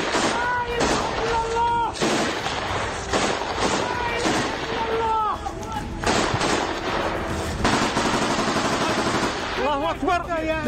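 Chechen fighters of the Sheikh Mansur battalion fire in combat during the Russia-Ukraine war: loud, dense bursts of gunfire run continuously, mixed with shouting voices throughout.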